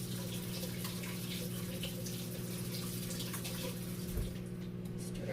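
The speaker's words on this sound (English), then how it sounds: "Just going to rinse my mini whisk so I can use it." Tap water running steadily to rinse a mini whisk in a kitchen, a faint continuous splashing stream over a low hum, with one small knock near the end.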